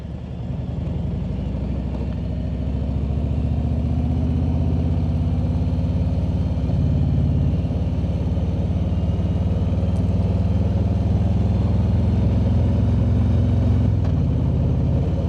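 Adventure motorcycle riding at about 6,800 feet on an unpaved mountain section, with a steady loud engine drone and road and wind rumble running throughout with no pauses or talk.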